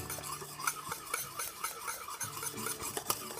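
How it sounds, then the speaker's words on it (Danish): A spoon stirring béarnaise sauce in a pot to cool it, steady scraping and clinking strokes against metal in a repeating rhythm, close and fairly quiet. "Og så rører, sådan så vi får temperaturen ned."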